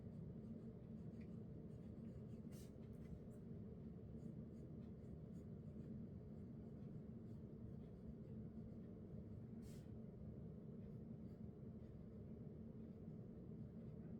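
Pen writing by hand in a journal makes a quiet, continuous scratching that runs steadily throughout with no talking.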